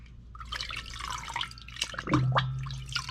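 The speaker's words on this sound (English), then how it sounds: "I take it to the kitchen sink once I've done this, and I run it under the tap and give it a good rub down and rinse out" Kitchen tap water running over a resin 3D print being rinsed and rubbed in the sink, a soft, close trickle and splash with faint drips throughout.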